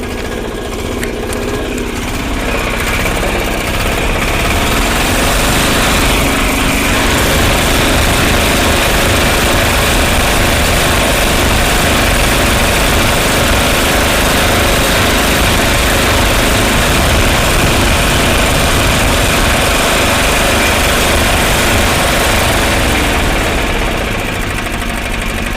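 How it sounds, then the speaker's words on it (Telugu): A Bajaj Mega auto rickshaw engine runs steadily and loudly up close, a rough knocking idle with revving, continuous throughout with no talk. "ఇంజన్ స్టార్ట్ అయింది."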